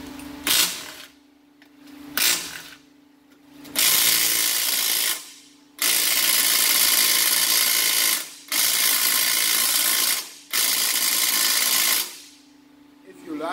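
Bursts of a tool spinning out the transmission housing bolts on a 2005–2018 Jeep Wrangler TJ/JK manual gearbox, several loud, sustained whirring runs separated by short pauses and a low hum.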